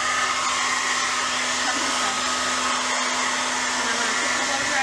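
Blow dryer running on the hot setting for hair care, a loud, constant whooshing roar with a steady motor hum, very close with a brief dip near the end and no talking.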